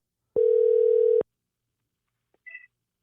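After a call is cut off, a single steady telephone dial tone sounds for just under a second, followed by silence and a faint, brief electronic chirp.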